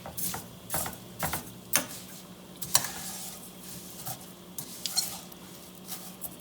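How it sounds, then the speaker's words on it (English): Dry fideo noodles browning in a pan while being stirred, a soft sizzle under repeated scraping and clinking strokes of a utensil, quiet and close with irregular spacing. "stirring your fideo. And you want to brown the fideo."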